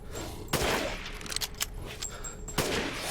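Gunfire in the Resident Evil Village video game, with two sharp shots about two seconds apart and some smaller clatters between them, at moderate loudness and with no talking.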